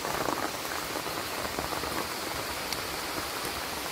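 Heavy rain pouring outside a forest shelter, a loud, dense, unbroken roar of drops hammering surfaces, steady and close with no voices.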